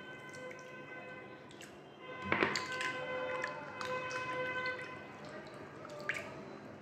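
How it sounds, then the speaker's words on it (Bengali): Water sloshing and dripping as raw mango pieces are washed to rinse off lime, with soft squishing handling noises and a louder splash burst midway, close and moderately quiet over a faint background hum. "চুনটা ভালো করে ধুয়ে নিতে হবে।"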